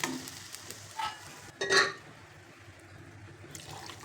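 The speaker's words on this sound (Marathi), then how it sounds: "शिजलेली डाळ घालायची" Cooked, mashed masoor lentils poured into melted butter for soup, with a short wet plop and a stir, followed by faint sizzling.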